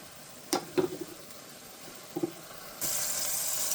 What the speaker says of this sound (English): My oil is heated up and I'm going to add some garlic. And I'm just going to saute that and flavor the oil.